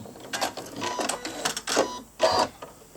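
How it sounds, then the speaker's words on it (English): A Janome 15000 embroidery machine stitching out a design on fine fabric, rapid mechanical needle chatter in several bursts of varying loudness, close and clear with no voices. "now we need to see how it stitches out"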